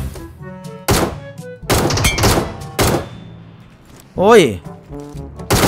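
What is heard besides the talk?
ACE32 rifle gunfire in PUBG Mobile video game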